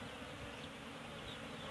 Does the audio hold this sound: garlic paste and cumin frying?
no